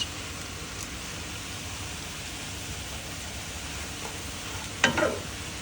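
A spoon stirs a sayote and cabbage filling in a pan, a faint, steady sizzling hiss, with a brief sharper scrape of the utensil near the end.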